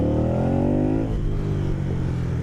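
An Aprilia Caponord 1200 motorcycle engine revs hard and climbs in pitch under acceleration, then eases off, loud and close.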